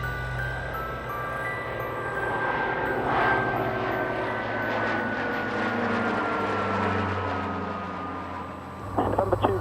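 A light aircraft's engine drones steadily in flight, a loud continuous hum with a slowly falling tone, briefly joined at the end by a clattering burst.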